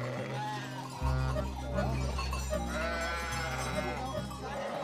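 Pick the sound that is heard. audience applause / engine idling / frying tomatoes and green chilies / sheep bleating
sheep bleating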